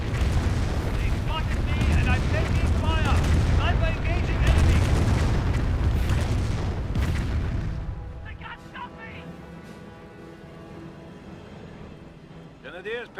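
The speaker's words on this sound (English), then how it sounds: "that's a lot of sticky bombs there on that Panther" Sticky bombs bursting on a Panther tank in the Company of Heroes game: a heavy rumbling barrage of blasts for several seconds, then fading into quieter battle noise with someone talking over it.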